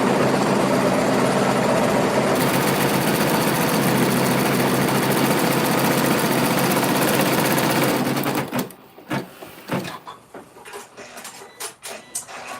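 A sewing machine stitches a fabric nutcracker shelf figure in a fast, steady, near whir that runs unbroken for about eight seconds, then stops and leaves only scattered handling clicks.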